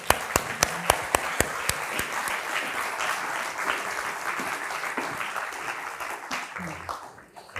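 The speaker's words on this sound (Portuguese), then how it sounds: "Uma salva de palmas, por favor." A studio audience at a Portuguese talk show breaks into applause: a few sharp individual claps at first, then a dense, sustained clapping that fades out near the end.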